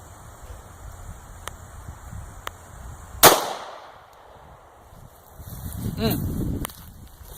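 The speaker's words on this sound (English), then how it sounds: "Now we get the loudest one of all, the 45 ACP." A single sharp, loud crack of a .45 ACP pistol firing a full metal jacket round from about 15 feet, outdoors, followed by a decaying echo and later rustling handling noise.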